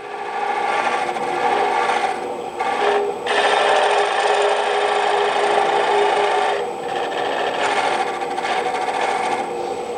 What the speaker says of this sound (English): I'm going to turn my lathe off.